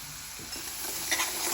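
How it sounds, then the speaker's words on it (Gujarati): Cumin seeds and asafoetida sizzling in hot oil in a pan, a brief steady hiss of frying, close and moderately loud. "એને મસ્ત તેલમાં સસડવા દઈશું ત્યાં સુધી આપણે જીરું અને હિંગ એડ કરીશું"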